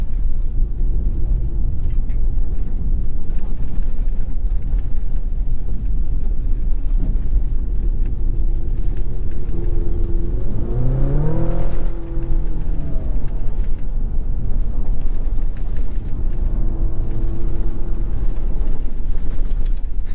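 2024 GMC Canyon AT4X AEV pickup driving fast off-road over bumps and washboard, a loud continuous rumble of engine and road noise with wind buffeting and a rising engine note partway through.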